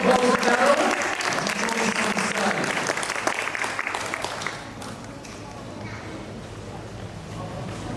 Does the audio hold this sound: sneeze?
no